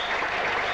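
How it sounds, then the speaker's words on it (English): A crowd at a 1982 Sri Lanka v England cricket Test match applauds and cheers in a brief, steady burst of clapping. "A jubilant crowd"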